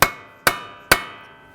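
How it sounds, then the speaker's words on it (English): A hammer strikes a center punch three times, evenly spaced, to free the axle from the wheel bearing on a 2009-2020 Dodge Journey. Each hit is a sharp, loud metallic clank with a short ringing decay. "Now let's use a hammer and a center punch."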